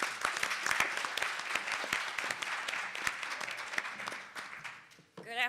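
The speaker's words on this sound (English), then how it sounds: "if you would join me in a round of applause." An audience at a college and career readiness session applauds with dense, crisp clapping that gradually thins and fades before a voice briefly starts at the end.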